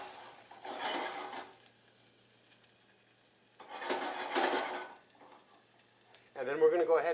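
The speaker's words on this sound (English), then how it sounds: "we're going to throw some shallots in there, okay? And we're going to go ahead, put those in there. We're going to saute them up really quick." Shallots sauté in a hot pan in two short bursts of sizzling and stirring, each a few seconds long with quiet gaps between, followed by a brief voice near the end.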